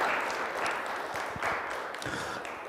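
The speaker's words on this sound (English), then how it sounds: "Let's give a nice warm applause" Audience applause at a community lunch-and-learn talk on oral history: a steady wash of many hands clapping, moderately quiet and even throughout, with no voices over it.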